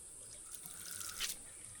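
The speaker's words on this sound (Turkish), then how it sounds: "Su akıyor." Water from a tap at a simple bamboo washstand on a volcanic island, a faint, steady trickle with a few light splashes, brief and quiet.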